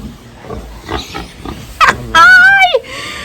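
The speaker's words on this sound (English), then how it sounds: "So this is my other mother pig." A sow on a farm in Jamaica lets out loud, close squeals and grunts: first a short rough burst, then a long, shrill, wavering squeal. Softer low sounds come before it, and a faint voice may be underneath.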